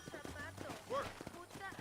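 Horse hooves clip-clopping in the Red Dead Redemption video game, a steady rhythmic trot of close, moderate hoofbeats running beneath a man's speech and game audio.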